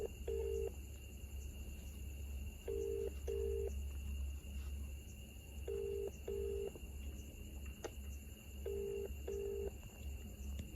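A phone call rings out unanswered, with a ringback tone sounding in evenly spaced double pulses over a steady electronic hum and background noise, and no one speaking.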